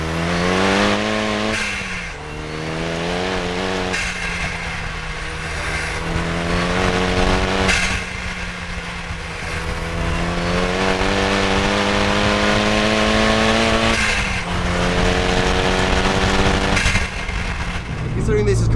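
A Renault Kangoo sleeper van with a swapped Megane 225 turbo engine accelerates hard through repeated gear pulls. The engine note climbs and drops at each shift, loud and close, with people talking over it.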